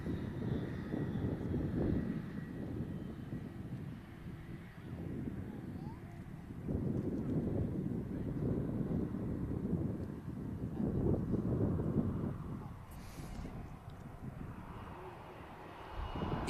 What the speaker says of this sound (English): Long takeoff roll as you'd expect from the Norwegian with it taking the intersection.